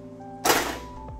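A single sharp metallic bang strikes a tap on a commercial Wega espresso machine, loud and close over a steady hum, with a brief tail and a faint second knock.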